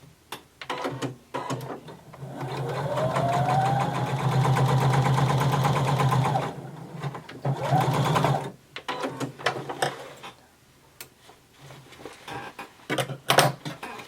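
A sewing machine runs top stitching along a denim seam, laying a second row a quarter inch from the first on a McCall 6361 garment. The motor hums in two steady close bursts, a long one and a shorter one, with quiet pauses between.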